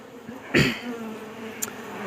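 Honey bees at an Apis cerana hive buzz in a faint steady hum, broken by one loud close pass and a brief higher whine later.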